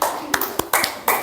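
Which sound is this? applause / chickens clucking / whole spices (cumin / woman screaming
applause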